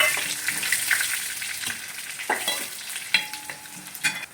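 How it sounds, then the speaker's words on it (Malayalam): Dried red chillies fry in hot coconut oil with mustard seeds, a bright continuous sizzle broken by small pops and stirring clicks, close up. "നമുക്ക് ഇനി വറ്റൽമുളക് ഇട്ട് കൊടുക്കാം"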